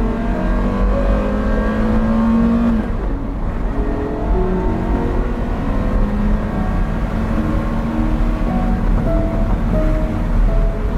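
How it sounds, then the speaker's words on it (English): A Ford GT sports car accelerating hard, its engine note climbing through a loud, sustained roar with a brief gear-change dip, heard close and alone without talk. "Pause for acceleration."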